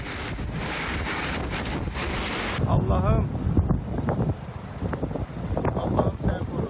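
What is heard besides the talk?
strong wind of a waterspout tornado hitting land in Antalya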